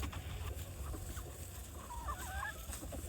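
Farm chickens being fed on open ground, clucking and squawking steadily over a constant low rumble, with a brief flurry of sharper calls near the end.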